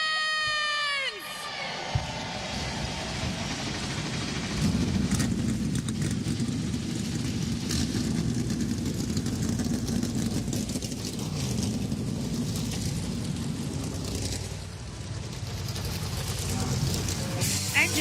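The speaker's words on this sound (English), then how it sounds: "Engines fired up." Several NASCAR stock car engines fire up at Daytona for the Duels, a broad roaring rumble that holds steady and loud after a brief opening burst, with crowd noise mixed in.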